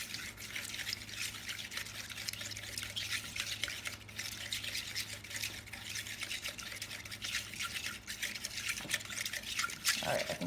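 Water being poured into a container and stirred to mix for a homemade fall lantern craft, a steady close wet swishing and trickling that runs throughout without pause.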